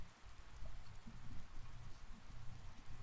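Steady rain falls in Persona 4 Golden near a floodplain, a soft, even patter with scattered droplet ticks, quiet and continuous.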